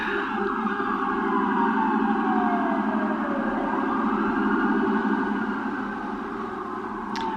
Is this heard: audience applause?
no